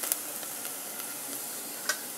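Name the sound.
green chillies and spice powders frying in pan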